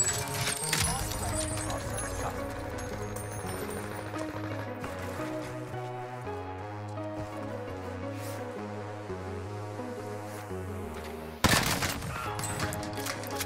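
Rapid gunfire in the Warzone video game on Rebirth Island, with a 725 shotgun build in use, sounding as bursts of shots over a continuous music bed, with a sharp loud burst near the end.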